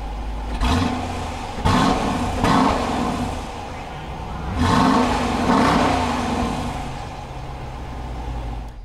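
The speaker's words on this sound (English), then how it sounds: "we are going to have a standard dual exhaust pumping out that awesome Hemi V8 sound" Hemi V8 of a 2020 Dodge Durango R/T Blacktop rumbles through its standard dual exhaust, with several loud revving swells rising and falling over a steady deep idle.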